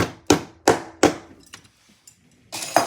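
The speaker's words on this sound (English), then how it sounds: "I'm going to use my handy dandy hammer." A hammer strikes a washer fitting while a Pebble Mini Sling bag is being sewn: three loud, sharp, evenly spaced blows up close, then a few fainter taps and a last knock.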